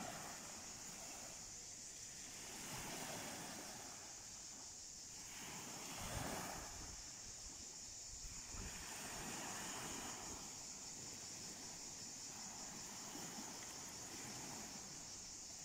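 Morning sea waves wash onto a beach in Turkey in slow, repeating surges under steady wind noise, fairly faint and without voices.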